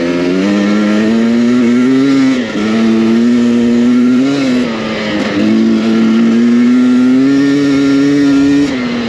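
A 2023 Husqvarna TE300i dirt bike accelerates uphill, its loud, close engine holding a steady buzzing drone with brief dips and surges in pitch as the throttle is worked, no voices over it.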